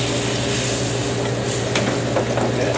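Heavy cream poured over shallots in a hot pan, a steady loud sizzle and hiss holding throughout with faint stirring scrapes near the end, no voices.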